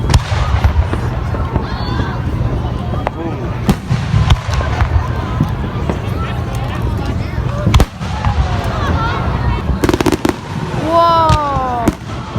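Fourth of July fireworks burst overhead in a run of loud, sharp cracks and booming pops, some close together and others spaced out, with voices talking and exclaiming throughout.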